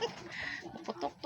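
Chickens cluck at a farmyard feeding in the late afternoon, with several short, uneven calls at close range that come in quick bursts over a low background.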